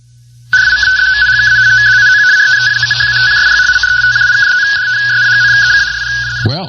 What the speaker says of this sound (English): That's the sound of radio teletype,